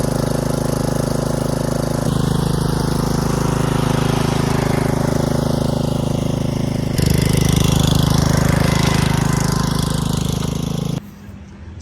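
A Craftsman R110 ride-on lawn mower's small engine runs close by with a loud, steady drone that shifts in pitch and intensity twice, as if revved up, before shutting off abruptly near the end.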